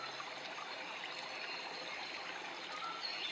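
Water pours and trickles at a jungle waterfall, heard as a faint, steady, continuous rushing wash with no voices.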